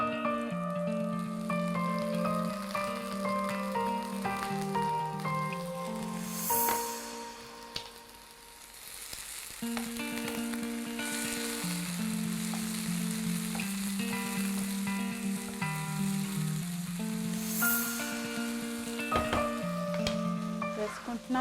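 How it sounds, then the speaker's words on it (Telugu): Prawns sizzle in a pan with zucchini and capsicum, a steady hiss of frying that runs throughout beneath a melodic background music track. "జుకీనీ అండ్ క్యాప్సికమ్ని మనం ఫ్రై చేసుకున్న తర్వాత నేను ఇందులో ప్రాన్స్ని యాడ్ చేసుకుంటున్నాను."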